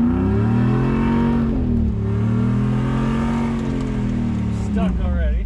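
A two-wheel-drive Dodge Dakota truck stuck off-road revs its engine in a loud, continuous drone that rises and falls, with a brief louder surge near the end.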